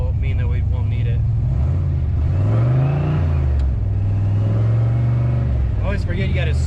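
A Foxbody Mustang fitted with an On3 turbo kit and Megasquirt tuning revs up loudly and steadily, its engine note rising and falling in a sustained drone as people talk over it.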